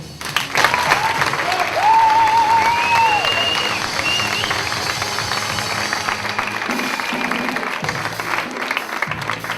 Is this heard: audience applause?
yes